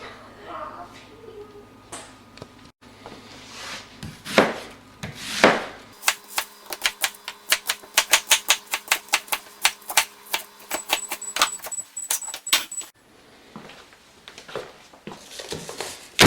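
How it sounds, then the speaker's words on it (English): A knife chops an onion on a cutting board in a home kitchen, a fast run of sharp, evenly spaced taps in the middle of the clip, with a few scattered knocks before and after. "now we're going to cut up our rogue onion"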